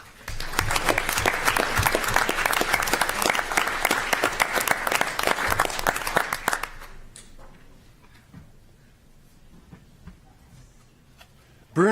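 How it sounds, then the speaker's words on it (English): A room of people at a city council meeting applauds in a dense, steady round of clapping for several seconds, then it stops abruptly, leaving a few scattered claps and quiet murmuring. "We'll get some claps, though."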